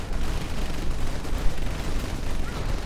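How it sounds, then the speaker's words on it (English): Quad cannons firing in the Rise of the Reds mod for C&C Generals Zero Hour, a dense, continuous roar of rapid gunfire with booming low rumble throughout. "coming in with his quad cannons"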